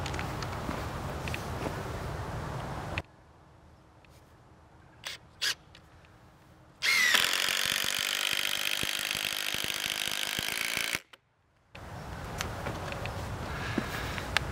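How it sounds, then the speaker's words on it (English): An impact driver sinks hefty screws into 4x4 pressure treated lumber in a loud, rattling burst of about four seconds, set between quieter stretches of outdoor ambience, a couple of knocks and handling noises. "Now these are pretty hefty screws, so an impact driver is definitely a plus."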